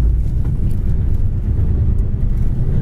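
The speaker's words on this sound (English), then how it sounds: "Another thing about this car is it just runs so smooth." A 1949 Ford Coupe runs smoothly while driving, a steady low rumble with road and wind noise throughout and no talk.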